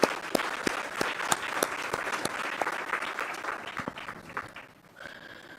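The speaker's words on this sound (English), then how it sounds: "kindly join me in warmly thanking and applauding this wonderful team" An audience at a CII interactive session with the Ministry of Finance on the 2025-26 budget applauds a team, with crisp, dense clapping that holds steady for about four seconds before thinning out and dying away.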